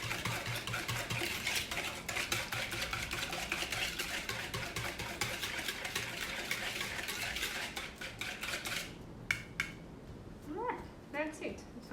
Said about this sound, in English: We're going to whisk until it's well blended and you won't see any oil floating on top.